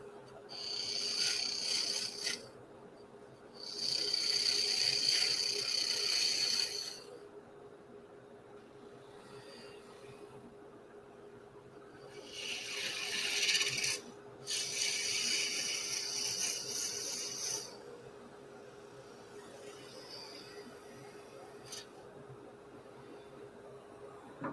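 A wooden pen blank being shaped on a lathe: the motor hums steadily while bursts of hissing, scraping cuts come and go in several passes of a few seconds each.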